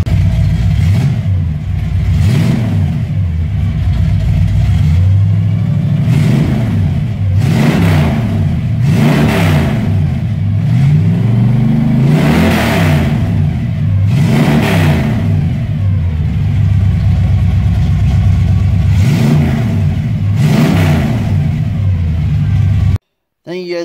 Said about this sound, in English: I'm going to let it warm up a little bit, and I hope I can get some revs in.